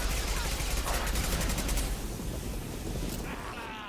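Sustained gunfire in the Mass Effect Legendary Edition video game, a dense, loud fusillade of rapid shots filling the first two seconds, then easing into a steadier rattle of fire with a voice faintly underneath.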